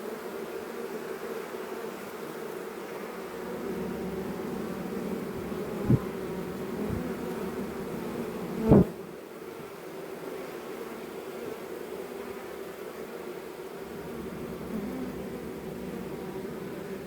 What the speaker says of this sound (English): Whilst the last few come across and that last small blob of bees comes down